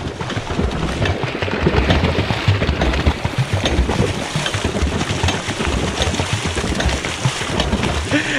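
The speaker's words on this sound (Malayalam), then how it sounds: "അപ്പൊ പ്രവീൺ മച്ചാന്റെ പണി നമ്മുടെ ഈ ഒരു ബോട്ട് ജസ്റ്റ് ഒന്ന് കൺട്രോൾ ചെയ്യുക" A homemade pedal-driven water cycle boat moves across the water, giving a steady churning wash and sloshing that continues unbroken and fairly loud throughout.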